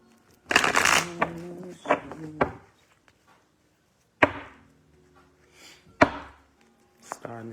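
Playing cards are shuffled by hand in several quick riffling bursts, crisp and close, with pauses between them and a voice speaking briefly.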